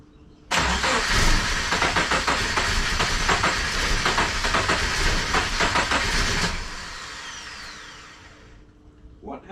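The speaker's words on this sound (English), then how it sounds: "we might pop one of these pipes off if I give it a little rev." A twin-turbo Subaru Forester engine roars loudly through its exhaust in a sustained rev of about six seconds, then drops back to a lower idle rumble.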